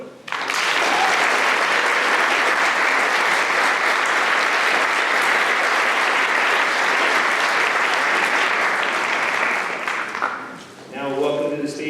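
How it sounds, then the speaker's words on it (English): An audience at a master's and PhD commencement ceremony applauds in a sustained, dense burst of clapping for about ten seconds before it tapers off, then a voice begins speaking. "please give a round of applause to our TA of the Year, Ryan Loke."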